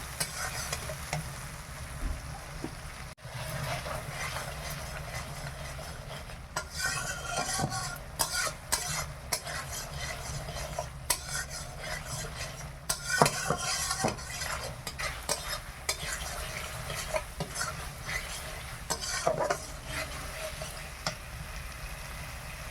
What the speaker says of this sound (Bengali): মশলাটা খুব ভালোভাবে ভাজা হয়ে গেছে